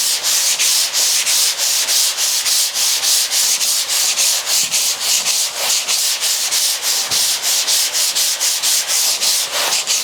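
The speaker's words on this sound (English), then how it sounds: "I'm going to hit it with some sandpaper, a sanding block" Steady back-and-forth rasping of a sanding block on the metal hood of a 1956 Chrysler 300, close and loud, with a fast regular stroke rhythm throughout and no talking.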